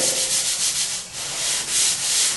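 Sanding a drywall joint-compound patch around a wall thermostat: continuous, close, loud abrasive rubbing in uneven back-and-forth strokes, with no talking.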